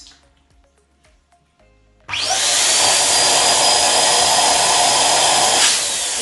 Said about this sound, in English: I'm going to pre-inflate it using my electric machine first.